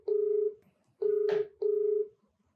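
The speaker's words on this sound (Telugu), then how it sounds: "ఒకసారి మరి కాల్ చేయమంటే మాట్లాడతానండి" Telephone keypad tones as a number is dialed to place a call: three clear electronic beeps, each about half a second long, with short pauses between them in an otherwise quiet room.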